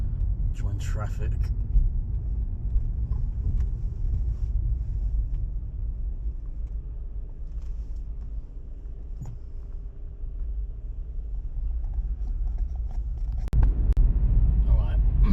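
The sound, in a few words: road traffic while driving from Margate to Ramsgate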